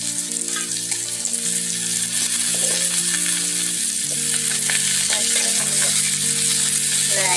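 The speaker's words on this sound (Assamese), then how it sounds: "লৰাই দিয়া হৈছে ভালদৰে।" Chicken and potatoes sizzle and fry loudly in a pan while being stirred, a continuous close hiss with scraping stir strokes, and sustained music tones run underneath.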